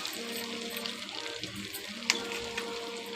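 Chicken fry sizzles and roasts in a pan, a steady close frying crackle with occasional sharper pops and stirring sounds.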